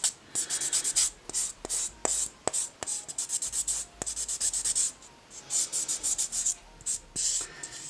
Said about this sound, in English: I'm going to buff this top coat off